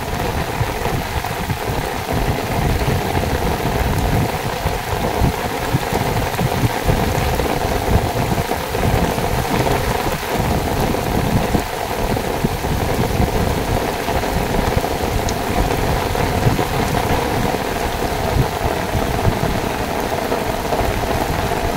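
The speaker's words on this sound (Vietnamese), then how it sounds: "Quá xá là mưa luôn em ơi." Heavy rain pours steadily over a shrimp pond in rural Vietnam, a dense, loud, unbroken hiss with faint rumbles beneath and no voices.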